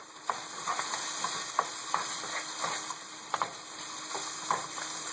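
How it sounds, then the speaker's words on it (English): Carnitas pork browns in a hot pan with a continuous close sizzle, broken by scattered sharp clicks and scrapes of stirring. "it's starting to brown the meat a little bit"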